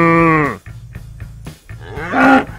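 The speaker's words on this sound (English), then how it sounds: "These are happy cows." Cattle on an organic beef farm lowing loudly and close, one long moo followed by a shorter second call, over a low rumble of wind and engine noise.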